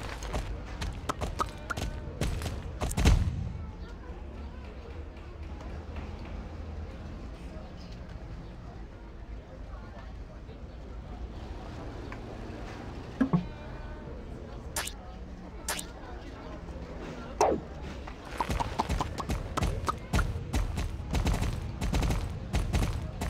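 Horse hooves clip-clopping during riding in the video game Springdale: Riding Adventures, a steady trotting patter under a soft game background with occasional sharper effect sounds and bursts toward the end.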